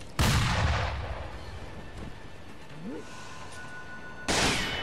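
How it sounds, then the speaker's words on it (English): Two sharp, loud gunshot blasts from an enemy in the video game Sekiro: Shadows Die Twice, one at the very start and one near the end, with a quieter stretch of game ambience between them. "I forgot you shoot bullets"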